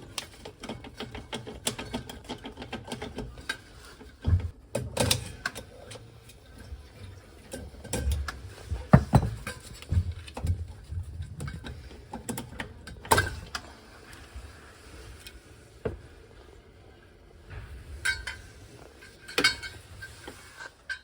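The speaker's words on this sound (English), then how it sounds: "I'm just trying to pry it off with a flathead" Metal scraping, clicking and prying as a flathead screwdriver works a stiff boiler zone valve head loose from its body, a series of irregular close clanks and knocks with quiet gaps between them.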